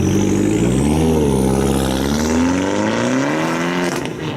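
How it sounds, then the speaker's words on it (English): A Fiat 124 Spider Abarth engine with its small turbo spooling up, a loud, steady, rising engine note that climbs in pitch through the rev range, heard close and alone with no talk. "In the low end, you can really hear the small turbo spool up, and it just sounds really aggressive and exotic, just like Samantha."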